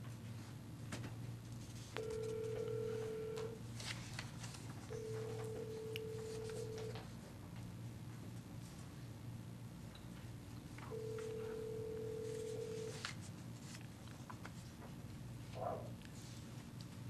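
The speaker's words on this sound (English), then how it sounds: "We're going to get Alan Welch on the phone" A phone line rings out during a committee meeting as a call is placed, with three steady electronic ringback tones spaced several seconds apart over faint room hiss in a quiet hall.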